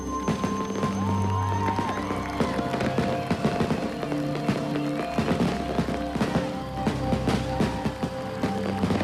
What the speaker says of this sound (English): This is to be one of the largest and most expensive fireworks displays in the world.